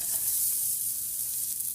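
Meat sizzles steadily in a hot pot, a constant hissing crackle without pauses.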